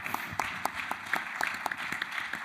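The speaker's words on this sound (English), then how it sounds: "Join me in a big round of applause." Scattered applause from a small seminar audience, sparse individual claps with a thin, uneven rhythm, fairly quiet and close, without much cheering.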